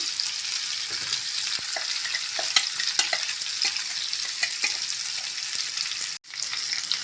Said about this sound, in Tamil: நம்ம எண்ணெயில் வதக்கி அரைச்ச வெங்காயம் தேங்காவை சேர்த்துடலாம்